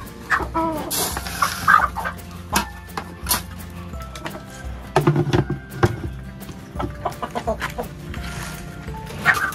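Chickens cluck close by in a farm area, a run of short repeated clucks and squawks from several birds with rustling and thuds in between.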